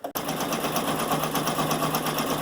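An embroidery machine stitches a satin stitch on an applique canning jar design, a steady close mechanical whir with rapid regular needle pulsing after a brief start.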